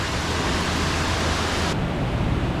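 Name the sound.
resort hotel indoor waterfall cascade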